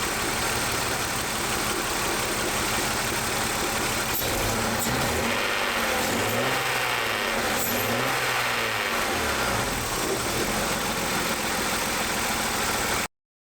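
BMW 328i engine with an ignition misfire on the sixth cylinder and one lead unplugged, idling roughly and then revving twice in rising and falling sweeps, close and loud throughout with no talk.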